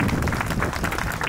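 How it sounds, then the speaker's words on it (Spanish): A crowd at the Paucartambo religious festival in honor of the Señor de Áncara bursts into brief, dense applause, many hands clapping at once, close and fairly loud. "¡Aplausos para Cristo!"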